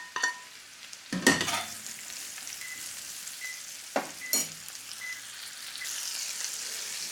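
Garlic and mushrooms fry in a cast-iron skillet with a steady, soft sizzle, broken by a few louder bursts of crackling and utensil scrapes as they are stirred, with no talk.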